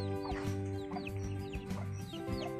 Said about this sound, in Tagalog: Ay, mga manok layas.